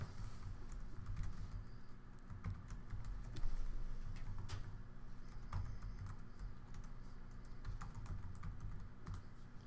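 Steady computer keyboard typing while filling in a form, continuous clicking keystrokes at close range with a low background hum, no voices.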